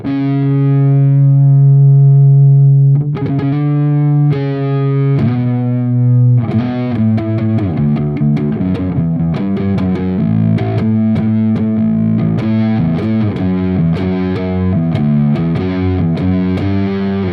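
Distorted electric guitar playing a riff: a sustained low chord ringing alone, then a busy, driving run of picked notes that stays loud and steady to the end.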